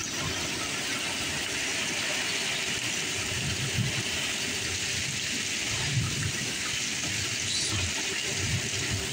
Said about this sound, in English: it is blowing and raining like wild